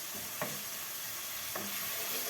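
Minced meat sizzling steadily in a pan, with two brief scraping stirs over the constant frying hiss, cooked for a spinach and mince börek filling.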